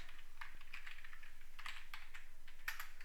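Light typing on a computer keyboard while entering a Python command, a scatter of soft, close key clicks at an uneven pace, with one sharper tap near the end and no voice.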